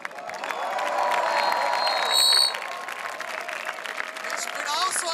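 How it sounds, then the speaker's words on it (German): A crowd applauds and cheers at a live outdoor concert on Berlin's Oranienplatz, a broad sustained wash of clapping and shouts with a voice speaking over it. "Applaus für ihn."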